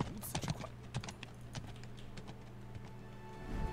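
Horse hooves clip-clopping in the Chinese dynasty hack-and-slash RPG Three Kingdoms Zhao Yun, a quick run of sharp hoof knocks early on that thins to sparser steps over a steady game ambience.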